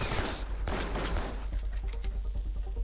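Gunfire in the video game Carrion, a close burst of rapid shots early on that thins into scattered pops and fades over a low hum.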